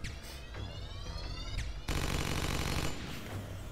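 Automatic turret gunfire in the cyberpunk tactics game Satellite Reign: sustained rapid bursts of shots, fairly close and steady, intensifying about halfway through, with no talk.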